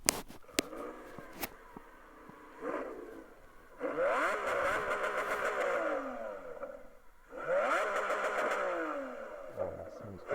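A Lamborghini Aventador SVJ starts with a sharp crack, then its engine revs twice in rising, snarling sweeps separated by a lumpy idle, loud and close.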